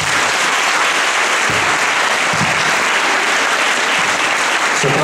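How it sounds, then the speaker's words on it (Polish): Sustained, loud audience applause fills a school hall after a violin performance of a popular American tune, a dense steady patter of clapping with no break. "Oklaski dla Łukasza."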